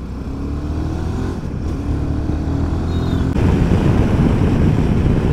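Royal Enfield Himalayan 450 motorcycle engine while riding, a steady low drone that rises gradually in pitch as the bike accelerates, with wind rush building toward the end.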